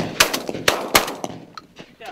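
Gunshots at a pigeon hunting contest: three sharp, loud reports in quick succession followed by fainter, smaller cracks and clicks, close by outdoors.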